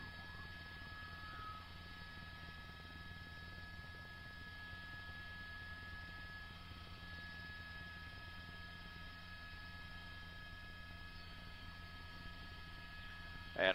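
Steady droning rotor and engine hum from a police helicopter hovering overhead, constant and fairly distant throughout, with a brief louder burst at the very end.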